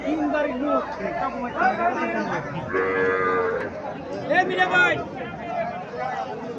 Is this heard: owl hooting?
no